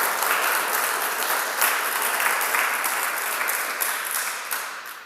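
Church congregation applauding loudly for several seconds, a dense steady clapping that fills the room and tapers slightly at the end.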